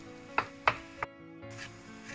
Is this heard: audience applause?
no